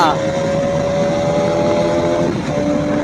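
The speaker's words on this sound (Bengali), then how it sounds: "এর আরপিএম এর সাউন্ড শুনলে জান ঠান্ডা হয়ে যায়" A motorcycle engine holds a loud, steady high-RPM drone at close range, with a brief dip near the end before it picks back up. A voice speaks over the engine noise.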